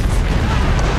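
Deep rumbling artillery barrage explosions in a combat video game battle, loud and booming, filling the moment with a heavy, continuous low roar.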